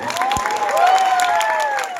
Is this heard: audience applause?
yes